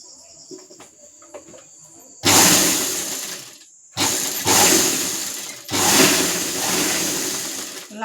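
A sewing machine stitching a blouse runs in three bursts of loud, fast whirring with short pauses between, after a few quiet clicks of handling at the start.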